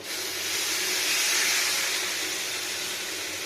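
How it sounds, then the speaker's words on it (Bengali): Water poured onto fried vegetables with tomato in a hot pan, producing a loud, steady hissing sizzle that swells and then slowly eases, close up with no talking. "এখন ভাজা ভাজা হয়ে গেছে, এবার দিয়ে নেবো জল।"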